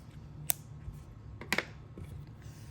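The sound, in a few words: scissors cutting a long piece of black yarn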